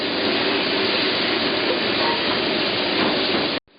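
Beef sears loudly in a hot pan for a braise, a steady dense sizzle and hiss running continuously until it cuts off abruptly near the end.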